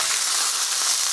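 Homemade hand-packed sirloin burgers frying in a pan give off a steady, even sizzle, a dense crackling hiss that stays constant for a moment with no talk over it.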